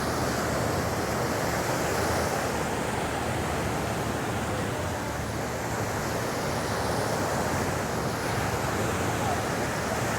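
Wind and ocean surf on Divi Beach in Aruba after a storm, with waves eroding the shore, form a loud, continuous wash of noise that stays dense and steady throughout.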